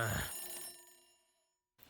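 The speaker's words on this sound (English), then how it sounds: "make several unsuccessful attempts to turn off the alarm of my phone" A phone alarm rings loudly for under a second, fades into silence, then briefly starts again at the very end.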